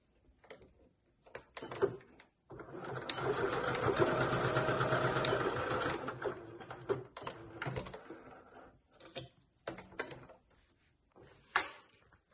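A sewing machine stitches a baking apron in one sustained, steady whirring run of a few seconds, framed by scattered clicks and handling knocks of fabric and machine before and after, close and moderately quiet.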